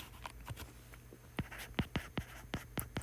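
A pen writing out a math sequence formula, quiet scratching strokes in quick, irregular bursts close to the microphone, with nobody speaking.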